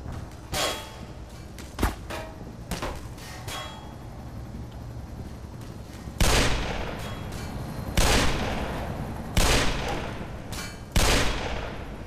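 Gunfire in the Black Mesa video game: a few sharp single shots early on, then four heavy, loud blasts with long decaying tails spaced about every second and a half over a steady background hum.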